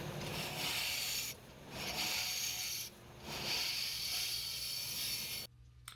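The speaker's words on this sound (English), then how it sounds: "I'm using the number 1 hollower to get the inside cleaned out." A hollowing tool scrapes steadily against spinning maple burl on a lathe while hollowing a lidded box, in three long passes separated by brief pauses, close and harsh.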